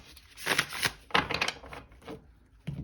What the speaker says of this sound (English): Let's do one last shuffle.